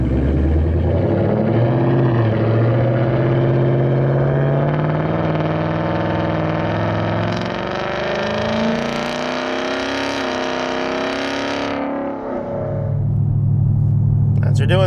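A 2018-2025 Mustang GT with a Flowmaster Scavenger exhaust, resonator delete and X-pipe cruises at 65 mph in 10th gear at low RPM. Its steady, low exhaust drone hums continuously while someone talks over it.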